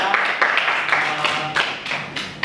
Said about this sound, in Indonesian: Oke, tepuk tangan dulu untuk semua kelompok ya